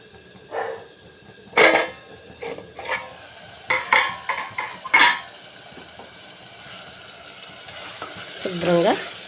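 Sliced onions frying in a pan for a goat-head curry are stirred with a spoon, giving a soft sizzle under scattered scraping clicks and taps against the pan, quiet and close.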